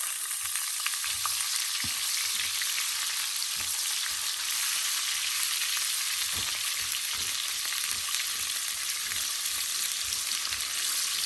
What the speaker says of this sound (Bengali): এটাকে একটু বাদামি করে ভেজে নিই।